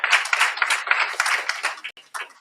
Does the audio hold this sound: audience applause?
yes